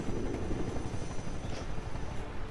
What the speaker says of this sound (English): I hear a helicopter somewhere.